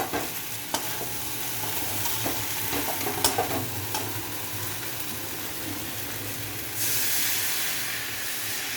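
Water is poured into spices frying in a pan for a soybean and cauliflower curry, a loud steady hiss and sizzle with stirring scrapes, and a sharp rise in hissing steam near the end.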